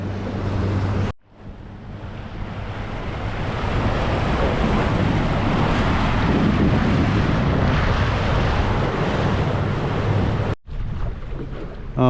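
Light wind rushes over open water beside a stopped boat on a river, a broad, steady wash with buffeting against the microphone and faint lapping, cut briefly near the start and end.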